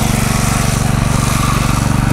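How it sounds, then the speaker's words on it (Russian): A small tractor's engine runs loud and close with a steady, rapid mechanical chugging throbbing without a break, outdoors at an ornithological park in Adler, Russia. "Маленький трактор."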